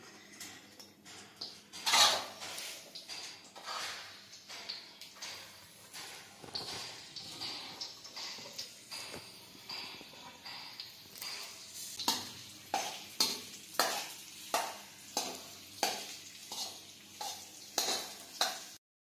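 Chopped dates stirring into melted ghee in a pan, with a steady run of scraping spoon strokes and soft sizzling, the strokes turning more regular and rhythmic toward the end.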